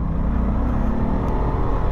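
Road traffic goes by on a rain-worn, potholed street, with cars giving a continuous close rumble and whir that holds steady with no gaps.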